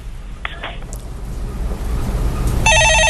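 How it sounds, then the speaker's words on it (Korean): A telephone rings with an incoming call on a stock-market call-in broadcast, a loud electronic ringing pattern that starts near the end and runs to the close, following faint earlier tones and a low background hum. "전화 받아보겠습니다"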